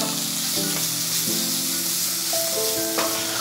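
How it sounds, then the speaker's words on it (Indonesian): Steady loud sizzling of chicken sautéing in a hot pan, with occasional scraping and tonal clanks from stirring. "Tumis sampai dia matang juga."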